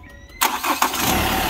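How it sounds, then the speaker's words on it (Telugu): A 2015 Hyundai Creta SX Plus AMT starts on a single crank: a brief starter whir, then the engine catches and settles into a steady, close idle. "ఒక్కసారి ఇంజన్ స్టార్ట్ చేయన్న"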